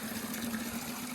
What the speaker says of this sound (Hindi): डब्बे में पानी भरेंगे हम